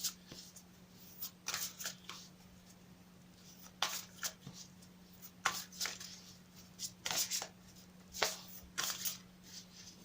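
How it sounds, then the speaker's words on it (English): Cards are shuffled in repeated quick riffling bursts with short pauses between them, close and crisp over a faint steady hum. "I'll shuffle them again for you on camera."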